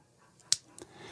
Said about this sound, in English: that's the sound of my Rapid River knife opening.